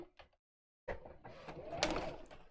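A sewing machine stitches fabric for the outer and lining loops of a sewn item in a close, steady mechanical whirr lasting under two seconds. A few soft handling taps come just before it.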